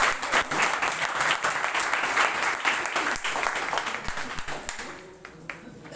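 Audience clapping at a motivational talk, loud sustained applause with sharp individual claps that thins out and fades toward the end.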